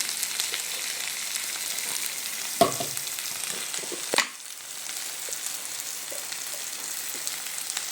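Cumin powder frying with spices in a hot pan gives a steady, close sizzle throughout, broken by two sharper clatters of stirring near the middle, with no voices.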